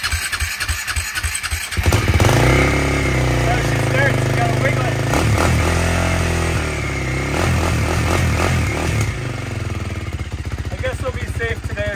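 Quad bike engine cranks, catches and settles into a loud, steady running rumble that rises and falls with throttle blips, with someone talking over it.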